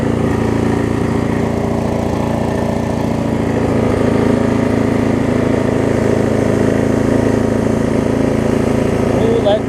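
A Snapper RER riding lawn mower's engine runs steadily and loudly, a continuous droning hum that holds without a break.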